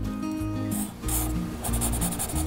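A felt-tip marker draws on paper in quick, close scratchy strokes, several short rubbing bursts in a row with no voice over them.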